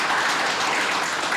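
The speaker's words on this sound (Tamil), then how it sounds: "நம்மளாம் கைத்தட்டி வரவேற்கணும்" Audience applause at a chamber of commerce breakfast meet, a dense continuous wash of clapping from a large crowd, even and sustained throughout.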